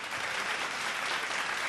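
Steady, dense applause from a crowd cheering on competing teams at a Mangala Gaur festival event in Sangli, continuous and fairly loud throughout the short stretch.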